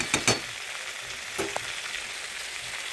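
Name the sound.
potato cauliflower curry cooking in a pan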